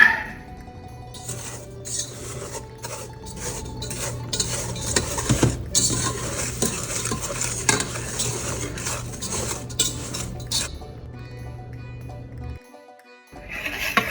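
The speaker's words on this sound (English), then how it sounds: "I gotta immediately get it off the heat and whisk these eggs in" A whisk clatters quickly against a metal pot as eggs are beaten into dissolved sugar for a honey cake, a steady close scraping and tapping that runs for several seconds and then stops.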